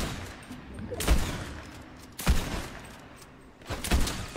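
Three separate loud rifle shots in Fortnite, each a sharp boom with a brief ringing tail, spaced about a second apart, over low game ambience.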